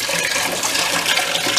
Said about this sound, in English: We got a little flood.